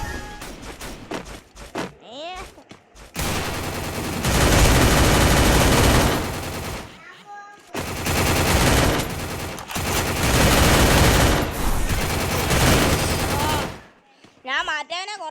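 Desert Eagle and MP5 fire in a mobile shooter game rattles in two long, loud sustained bursts. Brief talk comes at the start and near the end.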